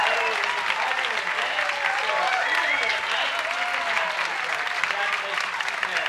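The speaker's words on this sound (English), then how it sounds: "I'm not sure if you can hear the crowd, but they're loving their home team, the USA team of Margot Isaacson and Dennis" A home crowd applauds and cheers at a modern pentathlon World Cup riding event in Sarasota, USA, sustained clapping under continuous commentary.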